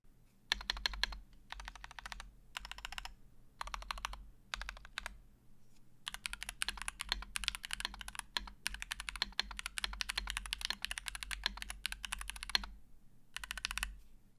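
Crisp, clicky typing on a custom prebuilt mechanical keyboard in quick bursts with short pauses, close and clear, then a longer continuous run of rapid keystrokes.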